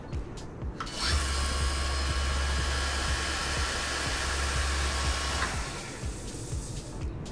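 A Mirka Deros electric sander switches on and runs with a steady, loud whirring hum that holds evenly for several seconds before spinning down, heard alone and close by.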